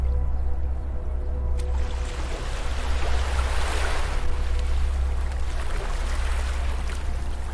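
Gentle waves at a beach, a continuous soft wash of surf with a low rumble and a broad swell building around the middle, steady and unbroken, no voices.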